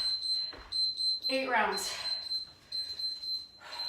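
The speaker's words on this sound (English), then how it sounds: "We're gonna get our series of beeps at the end." A steady high electronic beep train from a Tabata interval timer runs under excited talking and cheering during a workout, with breathy exclamations in the middle.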